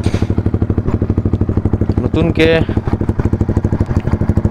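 A motorcycle engine running during a solo morning ride after night rain, a loud, close, evenly pulsing thump that stays steady throughout while someone speaks over it.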